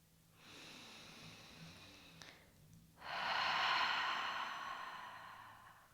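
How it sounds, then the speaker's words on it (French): Slow, deep breathing during a yoga flow session, a soft airy inhale followed by a fuller, louder breathy exhale, close and alone without talk. "On prend des grandes respirations profondes"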